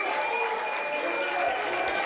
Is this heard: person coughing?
no